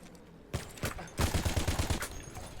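Rapid bursts of gunfire in the World War I shooter Battlefield 1, a few separate shots followed by a fast, loud fusillade of close, rhythmic rounds, with a softer shot trailing at the end.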